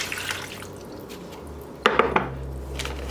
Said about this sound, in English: And pour in our marinade.